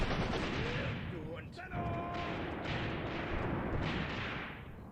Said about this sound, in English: artillery's coming in now, and our machine guns over to the east have also got good lines of sight